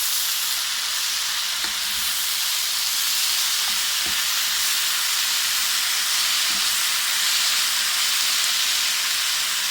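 Spinach and chopped tomatoes are stirred in a hot pan for a multi-vegetable Tamil koottu stew, giving a steady bright hiss of steam and sizzle with a few faint scrapes underneath and no voices.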